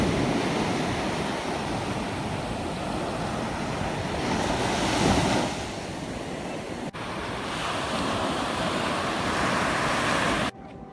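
Ocean waves wash steadily onto the beach at Asbury Park, New Jersey, a continuous loud roar of surf mixed with wind buffeting the microphone, with no voices.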